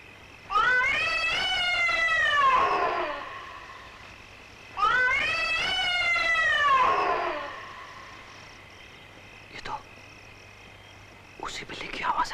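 Two long, drawn-out cat meows used as a film sound effect in a Bollywood murder thriller, each wavering for about two seconds and heard alone, followed by a brief faint click and a short rustle near the end.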